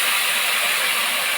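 Cumin seeds, bay leaves and ginger paste hit hot oil and give off a loud, continuous, close-up hiss of frying for a brief moment.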